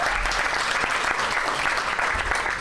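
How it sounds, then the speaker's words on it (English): Applause from a crowd at a community opening ceremony. The clapping is dense and continuous, close by and loud for the whole stretch, with no speech over it. "So a big round of applause to the men and women that worked here."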